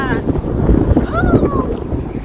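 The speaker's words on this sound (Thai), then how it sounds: "ลมแรง" Strong wind buffets the microphone outdoors on the road from Fairbanks to Anchorage, a loud low rumbling gusty roar throughout, with brief voices over it.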